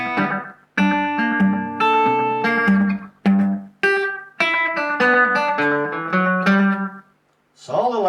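An electric guitar plays a lively, twangy rockabilly lead line, quick picked notes and bends, up close and steady, ending with a short pause.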